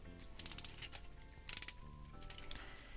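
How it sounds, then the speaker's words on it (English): Soft ratchet joints in the waist of a Craftsman Toys Computron action figure click in two quick bursts of about five crisp ticks each, close and fairly quiet, with light plastic handling noise between them. "You can see he does have soft ratchets in the waist"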